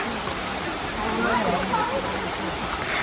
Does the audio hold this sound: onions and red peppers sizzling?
no